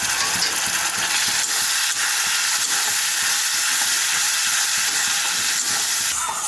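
Spiced potato curry stirred in a pan over medium heat just after a little water is added, giving a steady loud sizzling hiss with faint scraping of the spoon, no talking.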